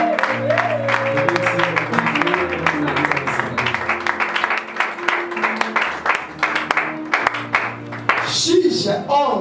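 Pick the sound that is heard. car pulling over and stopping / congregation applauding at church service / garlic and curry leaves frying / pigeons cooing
congregation applauding at church service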